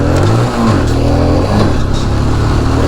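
A motorbike engine revving hard during a wheelie, loud and close, with pitch rising and falling as the throttle is worked, over a constant rumble.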